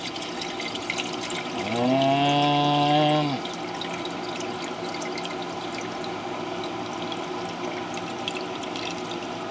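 Water runs and gurgles through a homemade PVC aquarium overflow siphon with drilled holes, a steady trickle over which a louder, tonal gurgling surge rises for about two seconds and then settles back to a quiet flow.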